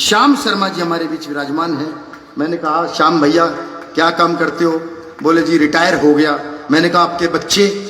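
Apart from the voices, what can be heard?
No everyday noises stand out.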